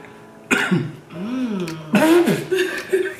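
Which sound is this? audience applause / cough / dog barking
cough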